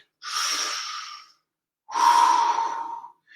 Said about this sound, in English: By taking this deeper breath into the belly